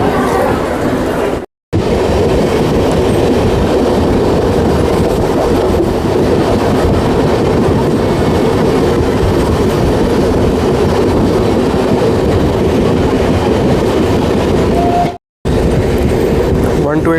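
A Bilaspur–Gevra Road MEMU with an RCF-built rake rolls into a crowded station platform, its loud rumbling wheel noise and rhythmic rail clatter continuous and close, with a murmur of crowd voices and brief drop-outs in the recording.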